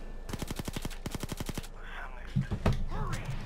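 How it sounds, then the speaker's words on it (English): Automatic gunfire in the heist video game Payday 2 comes in two rapid bursts of evenly spaced shots, followed by a couple of heavier blasts, with talk mixed in underneath. "Can't help the shooting."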